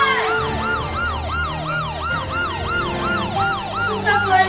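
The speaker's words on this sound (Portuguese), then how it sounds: "essa sirene da polícia" A police siren wails in a rapid, repeating up-and-down pattern, loud and steady throughout, with a faint engine rumble underneath.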